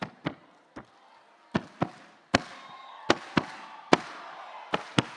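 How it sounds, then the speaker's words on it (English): Sharp claps ring out alone in a loose rhythm, about a dozen over a few seconds, from an audience clapping along at a comedy night. "I want you guys to clap like this."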